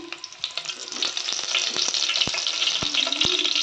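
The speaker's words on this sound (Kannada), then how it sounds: "ಸಾಸಿವೆ ಚಟಪಟ ಅನ್ನಂಗೆ ಬಿಡ್ರಿ" Mustard seeds and curry leaves hit hot oil for a Kannada-style okra dish, giving a bright continuous sizzle with scattered sharp pops and crackles, close and fairly loud.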